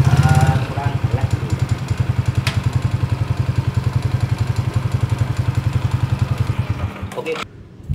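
A Suzuki Shogun R 110 motorcycle engine runs with a steady, rapid low putter at close range, loud and even, then cuts out abruptly near the end.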